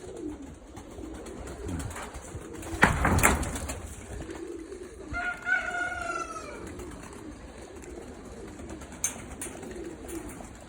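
Yellow pigeons coo in a short burst of low, throaty calls in the middle, with a sharp clatter just before and steady background hiss throughout.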